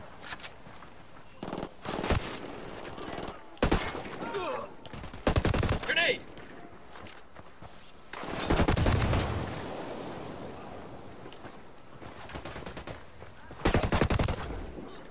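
Bursts of automatic gunfire from the video game Ghost Recon Wildlands, several separate volleys spread across the stretch with quieter gaps between them, loud and close.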